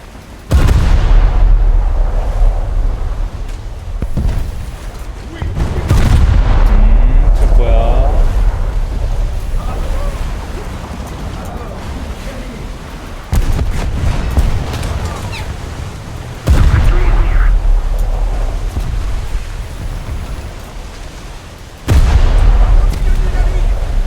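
Naval gunfire and shell explosions in War Thunder, with repeated loud booming blasts at intervals amid continuous battle rumble, heard alone without talk.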